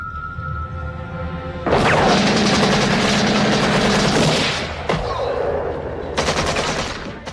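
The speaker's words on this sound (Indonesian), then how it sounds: "para pemberontak itu langsung menembak mereka dan pergi dari sana" Gunfire from rebels in a war film scene: a dense, loud burst of rapid shots fills the middle, then trails into rumbling echoes before another short volley, all over a music score.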